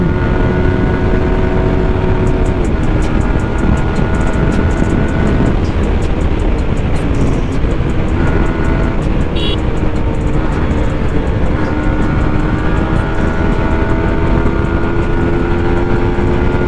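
A 2022 Yamaha R15M motorcycle rides at speed, its engine howling loud and continuous under heavy wind roar, with the pitch shifting as the rider works through the gears.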